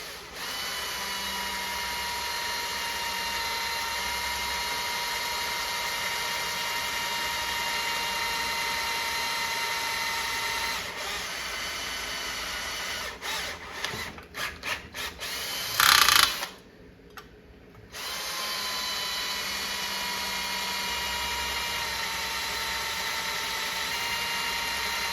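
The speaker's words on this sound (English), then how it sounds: "Make sure you don't drill at a real high rate of speed because it'll catch on you and it'll rip it right out of your hands" A power drill bores through the sheet-metal coin door of a Satan's Hollow arcade cabinet, a steady close whine running unbroken for most of the stretch, with a brief sputter and a pause near the end before it resumes.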